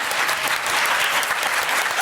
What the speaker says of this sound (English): Should we clap? I feel like we should clap.